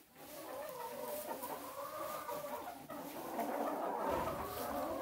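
A homestead flock of hens and a rooster cluck and murmur at a moderate distance. Overlapping clucks rise and fall in uneven bursts, growing busier toward the end.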